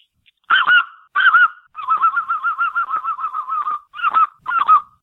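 A man imitates a speckle-belly goose call with his mouth, loud and close: two sharp yelping honks, then a fast rolling chatter of rapid clucks, ending with two more yelps, with no other sound around it.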